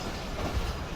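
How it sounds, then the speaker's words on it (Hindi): The Jaffer Express, hauled by a Chinese locomotive, rolling toward platform 5 on the way to Lahore, a dense continuous rumble of wheels and carriages, loud and close, with no talking. "ये हमारी ट्रेन प्लेटफॉर्म नंबर 5 की तरफ बढ़ते हुए 4551 GU20"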